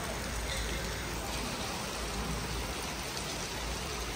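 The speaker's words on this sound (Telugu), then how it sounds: "సో మెయిన్ వర్షం అయితే మేబీ కనిపించకపోవచ్చు, దీంట్లో గట్టిగానే పడుతుంది." Heavy rain pours steadily outside during a sudden toofan, a dense, even hiss with no pauses for the whole stretch, moderately loud and close.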